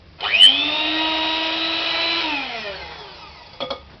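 A steady motorized whir runs for a few seconds, dipping slightly in pitch before winding down, followed by a couple of brief clatters at the end.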